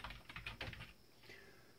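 Quiet clicks of typing on an iMac's computer keyboard, a quick cluster of keystrokes in the first second, then fading to a faint hum.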